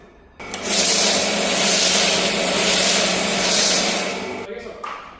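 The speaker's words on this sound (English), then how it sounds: "and then spray some foam on it" Foam sprayed onto the paint of a £500 daily-driver car during detailing, a loud continuous hissing spray lasting about four seconds, starting abruptly and tapering off, close to the microphone.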